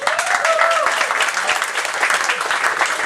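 A concert audience at a church event breaks into steady, loud applause, dense clapping filling the whole stretch with a brief voice rising near the start.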